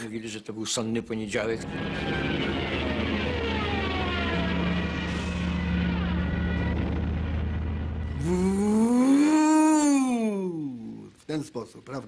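Bomber aircraft diving during an air raid let out long wavering howls that rise and fall, ending in a loud swooping whine, partly under a speaking voice.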